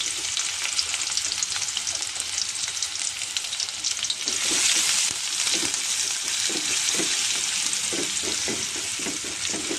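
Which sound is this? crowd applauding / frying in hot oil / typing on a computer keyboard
frying in hot oil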